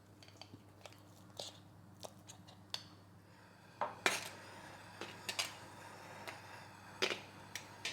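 Homemade beef tallow, about half a kilo, is scraped and scooped into a large cast iron kazan, giving scattered metallic clinks and scrapes that grow louder and busier partway through, close by.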